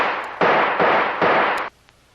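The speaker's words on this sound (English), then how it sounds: "The only chance is to shoot the lock off that door." Gunfire at a door lock in a radio drama comes as three rapid, loud, broadband bursts in close succession, each cracking sharply and smearing into the next before cutting off into quiet.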